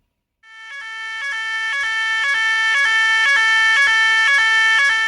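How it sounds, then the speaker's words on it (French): Alarm siren used to gather people during a fire or danger, a loud two-tone electronic alternation repeating steadily after a short silence, with no voices. "Cette alarme nous permet de nous rassembler."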